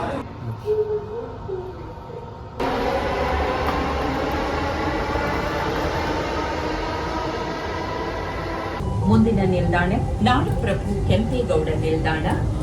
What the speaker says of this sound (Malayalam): നമ്മളിവിടെ നിന്ന് മെട്രോയിൽ പോവുകയാണ്